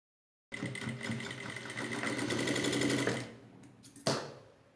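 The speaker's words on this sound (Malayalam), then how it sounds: "എന്നിട്ട് ഈ സൈഡിൽ കൂടെ അങ്ങ് സ്റ്റിച്ച് ചെയ്ത് കൊടുക്കുക." An electric sewing machine stitches along the side seam of a kids' summer frock, a close, fast, even whirr lasting about two and a half seconds before it winds down and ends with a short clunk.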